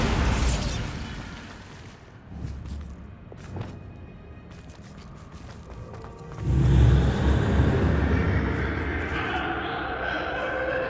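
In Hogwarts Legacy, a Bombarda blasting spell goes off as a loud, close explosion midway with a rumbling burst that tails off into debris noise, after quieter clatter and game sounds.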